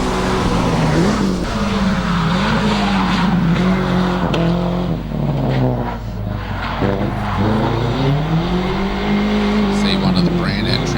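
A hillclimb race car works its way around the hairpin, its engine loud and near with the pitch dropping and rising through the bend, under a commentator's steady talk.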